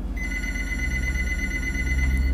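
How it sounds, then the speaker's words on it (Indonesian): A telephone rings continuously with a steady electronic bell tone, loud and close, over a constant low hum with no speech. "gua dengar ada telpon"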